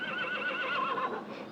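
A horse neighs once in a clear, wavering whinny, fairly close and heard alone with no talk over it.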